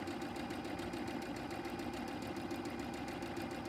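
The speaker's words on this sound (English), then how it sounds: "I'm stitching on the line between piece 4 and piece 6." A sewing machine runs steadily, stitching a foundation paper pieced quilt block with a fast, even mechanical whir. The sound is quiet and continuous, with no speech.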